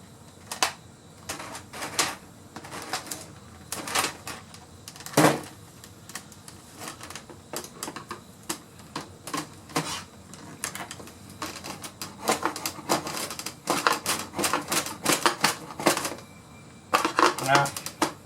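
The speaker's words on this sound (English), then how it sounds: "Take all the screws out." Screws being backed out of a keyboard case while it is scrapped: a busy run of small plastic and metal clicks, ticks and rattles, close and irregular, bunching into denser clusters at times.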